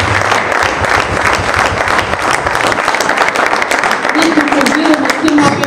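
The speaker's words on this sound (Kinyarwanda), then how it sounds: "Yewe ndi kumva ayo mashyi adahagije." Sustained clapping from a church congregation during an energetic worship service, loud and even across the whole stretch, with a voice briefly rising over the crowd near the end.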